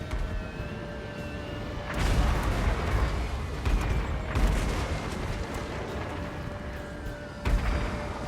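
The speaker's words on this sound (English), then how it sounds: "Artillery bombardment with precision rivaled only by the Skaven." Heavy artillery bombardment in the game Total War: Warhammer, a rolling wash of booms and explosions with louder surges every few seconds over a constant battle roar.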